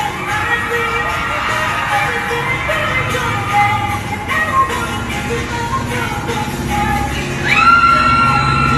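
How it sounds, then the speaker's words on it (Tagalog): Crowd at the BINIVERSE concert cheering and screaming through Gwen's solo set, a dense, loud roar of shrill screams and whoops that holds steadily and swells near the end. "Grabe yung crowd, no? Rinig na rinig nyo ba"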